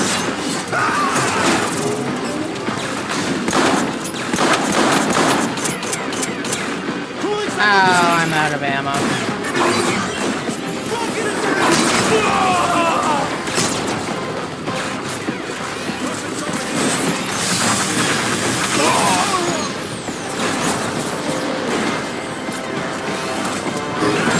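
Sniper gunfire and crashing impacts in the video game Transformers: War for Cybertron form a dense, continuous barrage of shots and smashes, with voices talking over the battle.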